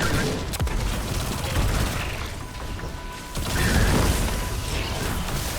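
Enemies in Destiny 2 firing at the player, a busy mix of gunshot bursts, mechanical clanks and thuds, fairly loud and continuous with a sharper crack near the start and a swell of fire toward the end.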